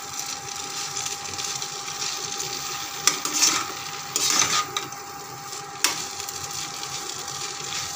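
A spatula scrapes and stirs rice frying in oil in a karahi, with a few sharper scraping strokes standing out over a steady close background hiss.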